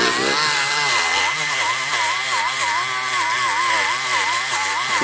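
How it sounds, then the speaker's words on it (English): A cross buff on a power tool polishes an aluminum turbo housing from a Galant VR4, giving a loud, steady high-pitched whine with a wavering motor drone that runs without a break throughout. "something cool you can do with the cross buff is you can probably polish aluminum with it"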